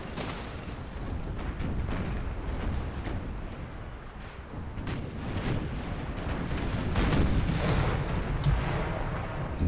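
Ship cannon fire in the naval battle game Empire: Total War, a continuous rumbling barrage of distant booms and crackling blasts that swells toward the end, with no talking.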